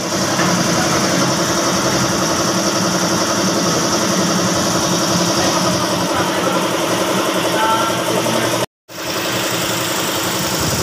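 A Toyota Vios with a dual VVT-i engine runs at a steady, loud idle after a fresh oil change, with a dense mechanical hum and rattle throughout. There is one brief cutout near the end before the running resumes.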